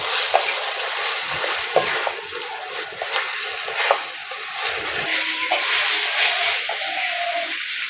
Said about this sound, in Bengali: মশলার সঙ্গে আলুটা ভালো করে কষিয়ে নেব।